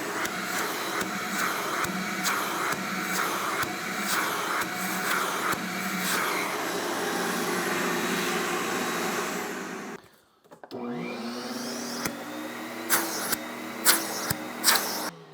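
Ridgid 5 hp, 4-gallon wet/dry shop vacuum running with a steady loud motor roar and airflow hiss, briefly cutting out near the end before restarting with a higher whine and some bumps.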